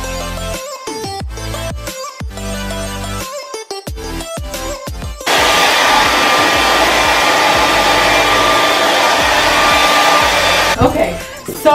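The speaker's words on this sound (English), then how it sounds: "Let's start the blow dry." A hair dryer blows hard and steady at close range for several seconds while hair is dried after a protein treatment, cutting in abruptly after a stretch of background music and then switching off.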